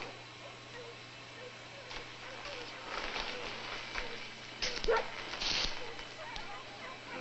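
A single dog barks and yips in the distance, faint and intermittent over a steady low hum and background hiss.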